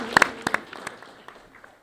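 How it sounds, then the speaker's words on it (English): A few scattered claps from a small audience at a school board meeting, several sharp hand claps near the start thinning to sparse faint ones, brief and quiet. "Oh, we can clap, absolutely."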